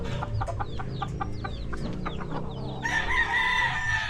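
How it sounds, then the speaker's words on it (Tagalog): Breeder chickens and roosters cluck and call in a repeating series of short notes, then a rooster crows loudly near the end, close and clear with farmyard noise beneath. "Ayun yung tsura ng mga manok."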